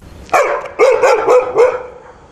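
Several dogs bark in a few sharp, loud bursts close by, with no talking over them.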